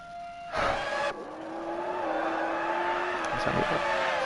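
A classic racing car in a Monza video game race whines past with a rising engine note that settles into a steady high drone, with a brief swell of tyre noise near the start.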